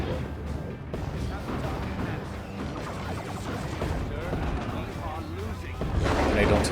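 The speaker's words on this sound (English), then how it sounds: "Grenade launchers being annoying." Grenade launchers firing in the Warhammer 40,000 strategy game Dawn of War 2: Retribution, giving repeated thuds and crashes under busy battle noise, with indistinct voices throughout and a louder burst near the end.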